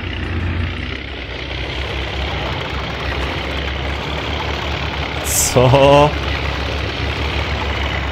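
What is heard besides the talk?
Volvo truck engine idling in video game Spintires MudRunner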